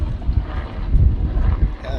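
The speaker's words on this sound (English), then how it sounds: "the wind is really blowing. I hope it's not affecting the sound too much." Strong wind buffets the microphone on an anchored boat, a continuous low rumbling roar with gusty surges and a brief tonal squeak near the end.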